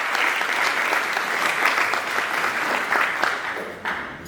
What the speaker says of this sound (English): I just want to give a big round of applause for all of our attendees